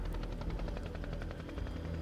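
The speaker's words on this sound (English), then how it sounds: "16 helicopters shuttled Bravo Company into landing zone X-ray on the northeast side of Chupong Mountain." Military helicopters fly overhead with a loud, continuous rotor thudding and engine roar that stays steady throughout, with no talking.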